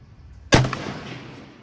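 A single sharp, loud report from a No.5 Mk I rifle fired while sighting in, close by, with a short ringing decay after a quiet lead-in.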